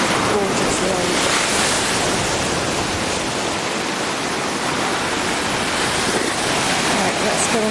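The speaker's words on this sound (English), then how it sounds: "Still a few waves." Sea waves break on a beach in a steady, loud wash of surf. Wind buffets the microphone throughout, with no clear breaks between waves.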